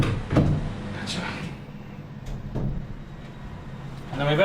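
A boat's wooden door below deck is opened and closed as a test, giving a few short knocks and a sliding clunk at intervals, close by and fairly quiet, with someone talking between the sounds.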